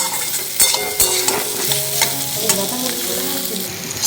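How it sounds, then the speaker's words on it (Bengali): Boiled potatoes fry with spices in a pan, giving a steady sizzle broken by repeated scraping and clacking strokes of a spatula stirring the mixture. "এটাকে ভালো করে মশলাটাকে এখন কষিয়ে নিচ্ছে"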